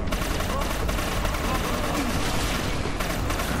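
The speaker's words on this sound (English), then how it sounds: "Yep, my shots are really well synced." Rapid gunfire from the co-op shooter Inversion keeps up as a dense, unbroken barrage at steady volume for the whole stretch, with no single shots standing apart.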